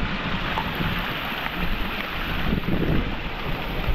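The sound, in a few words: strongly flowing water of a monsoon stream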